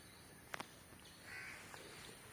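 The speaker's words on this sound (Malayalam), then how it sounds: "കാക്ക എവിടെ കാക്ക" A crow caws outdoors, with a couple of short, faint, distant calls over a quiet background.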